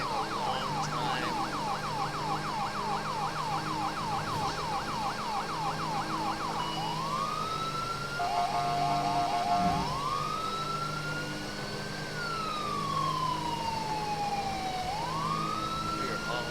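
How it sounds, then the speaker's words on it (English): An LAPD-style police siren on a 2018 Charger state police patrol car in GTA 5 sounds loud and steady: a fast yelp cycles first, then slow rising and falling wails sweep over constant engine and road roar. "We are still rocking that LAPD siren"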